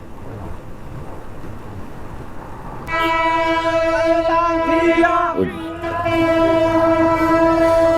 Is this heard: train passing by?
yes